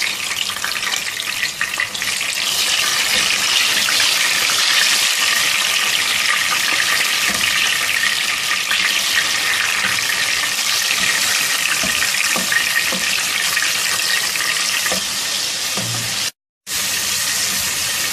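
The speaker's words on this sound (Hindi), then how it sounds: "अब इस तेल में एक बड़े साइज का टमाटर शामिल करेंगे स्लाइसिस में कटा हुआ और इसको इतनी देर तक फ्राई करेंगे" Large tomato slices fry in hot oil for a Pakistani chicken and potato shorba, producing a loud, dense, steady crackling sizzle up close, briefly cut off near the end.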